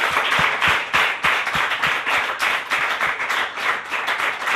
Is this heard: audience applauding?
yes